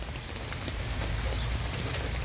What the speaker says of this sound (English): And the rain still a fall, it not finish.